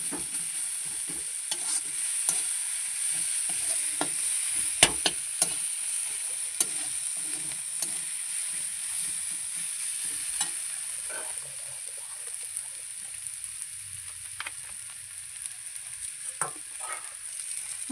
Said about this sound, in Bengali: নুন আর হলুদ দিয়ে ভালোভাবে কষিয়ে নিচ্ছে